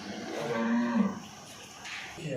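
A pregnant buffalo gives one drawn-out, moderately quiet moo that fades into a calm farm background.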